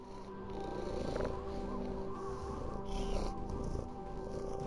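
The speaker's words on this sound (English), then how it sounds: "They're purring." Creatures purring in the Voices of the Void video game, a steady low rumbling purr that carries on throughout, fairly close and soft, with a faint steady tone in the background.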